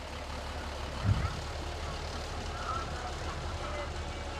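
A fire department tanker truck rolls past in a parade, its deep diesel rumble steady and close, with a brief louder thump. Crowd and announcer voices carry along underneath.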